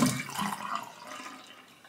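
Water drains out of a bathroom fixture and down the pipe toward the outside sewer, with a short rushing gurgle that is loudest at the start and then fades to a fainter trickle.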